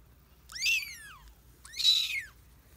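Two loud, high kitten meows, each rising then falling, about a second apart, calling for their small, exhausted mother cat indoors after rescue from a cat hoarding house; faint background hum underneath.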